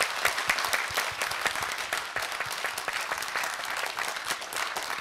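An audience at a memorial talk concert for Cardinal Kim Sou-hwan applauds the panelists and award winners with sustained, dense clapping that stays steady from start to finish.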